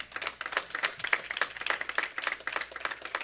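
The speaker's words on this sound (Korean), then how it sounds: "우리 참 아버님께 큰 박수를 드리면서" Applause from a church congregation during a religious lecture, a crisp close patter of many hands clapping at an even rhythm, heard alone for a few seconds.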